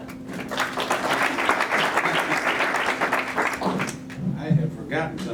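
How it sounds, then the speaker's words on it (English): A big round of applause for a guest at an honoring event fills the room, with dense, steady clapping throughout and a few voices mixed in. "I think we should give him a big round of applause."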